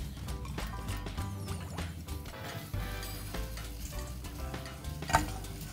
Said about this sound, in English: A little bit of a sizzle lets you know you're ready.